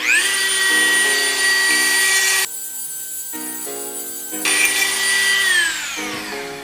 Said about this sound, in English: I'm gonna use my angle grinder for that